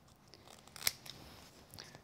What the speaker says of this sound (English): grab my scissors and we'll just trim away the extra bit here.